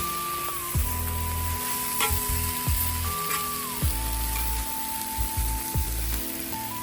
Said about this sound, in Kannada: ಮಿಕ್ಸ್ ಮಾಡಲಿಕ್ಕೆ 2 ಸ್ಪೂನ್ ಥರ ಯೂಸ್ ಮಾಡಿದರೆ ಒಳ್ಳೆ ಮಿಕ್ಸ್ ಆಗುತ್ತೆ